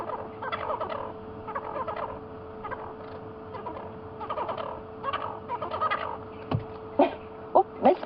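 Francolins cackle and call in a heated confrontation on a South African safari drive, harsh rhythmic bursts repeating throughout, with several louder close calls near the end over a steady hum.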